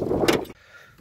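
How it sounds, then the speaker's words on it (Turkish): A car engine, cold, cranks and catches on the first try with a short loud burst, then settles into a much quieter low running hum, with a brief knock at the end. "Gördüğünüz gibi motor soğuk olmasına rağmen benim araba tek marşta çalışıyor"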